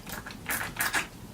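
A small spray bottle of lavender hand sanitizer pumped in a few quick, close squirts, short hissy bursts clustered together with brief gaps, fairly soft and alone.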